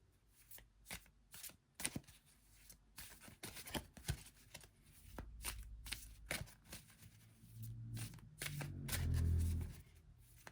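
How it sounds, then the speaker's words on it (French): Tarot-style cards handled and laid out on a table, a close run of quick, crisp flicks and slaps as they are shuffled and set down one after another, ending with a soft rustling thud. "je positionne mes cartes"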